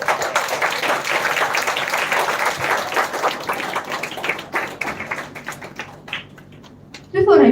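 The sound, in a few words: audience applause and cheering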